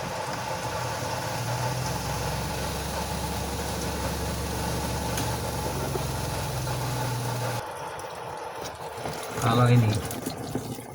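A twin-tub washing machine's spin dryer runs with water inside, a steady loud mechanical hum and whir that cuts off partway, leaving splashing and trickling water.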